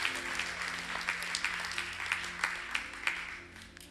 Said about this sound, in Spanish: ¿Cómo estuvo ese aplauso?